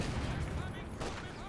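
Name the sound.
gunfire on shock troops in the video game Company of Heroes 2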